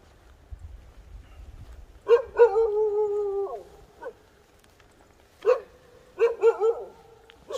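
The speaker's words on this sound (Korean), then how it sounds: "조금만 짖어라." A house dog in a Korean mountain village barks in short bursts with drawn-out howling, whining tones, two clusters of loud, close barks separated by quiet.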